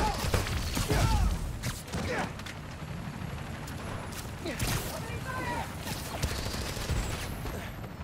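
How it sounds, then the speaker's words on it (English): Gunfire in the Spider-Man: Miles Morales video game heard during a blizzard, bursts of shots and thuds over wind and game ambience, with dialogue in the mix. "Need to head toward the gunfire."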